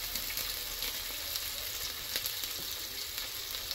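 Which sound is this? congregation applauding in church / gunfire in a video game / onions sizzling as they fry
onions sizzling as they fry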